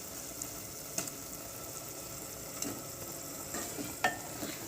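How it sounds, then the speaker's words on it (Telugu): Boiled eggs fry in masala in a pan for an egg biryani, giving a soft, steady sizzle broken by a few quiet scraping stirs. "ఇప్పుడు గుడ్లకి మసాలా పట్టేలాగా వేపాలి."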